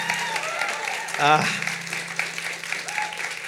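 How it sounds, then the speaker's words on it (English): An event audience keeps clapping in a steady, moderate patter while a speaker talks over it, with one short loud vocal burst partway through. "go clap for yourself"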